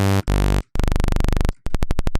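Synthesizer saw wave plays in loud, buzzy bursts, dropping lower each time until it becomes a slow series of distinct individual clicks, separated by brief silences.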